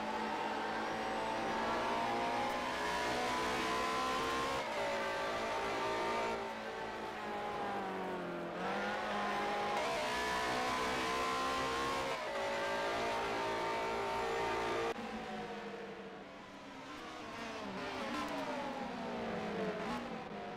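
BMW touring race cars lapping Mount Panorama in a 1997 Bathurst 1000 racing game, engines revving hard and shifting continuously, several cars close together and loud throughout with no talk.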